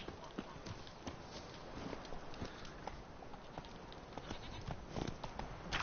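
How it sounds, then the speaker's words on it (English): Horse hooves clip-clopping in a steady rhythm while riding in The Witcher 3: Hearts of Stone, close and moderately loud over a busy game background, with no talk. "Bueno, vamos en caballo entonces."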